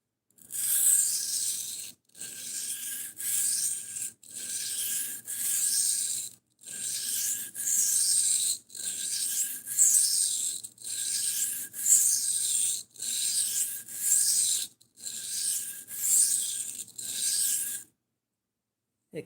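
Knife blade stroked over a 400 grit sharpening stone, about fifteen even scraping rasps in a steady rhythm with brief pauses between, close and fairly loud, then silence.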